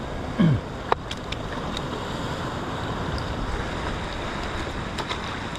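Big waves surge and wash along a rocky fishing shore in a steady, broadband roar with wind buffeting the microphone; a brief thump and faint splashes sit near the start, with no talking.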